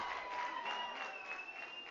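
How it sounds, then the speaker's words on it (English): Crowd applauding and cheering from a distance at a women's rugby national championship match between Ottawa and Queen's, a steady wash of clapping that persists throughout at moderate-low level. "Crowd are really enjoying this."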